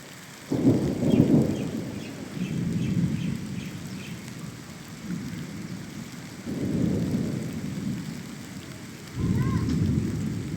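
Low rolling rumbles of thunder come and go over steady rain, with distant faint bird chirps; no one speaks.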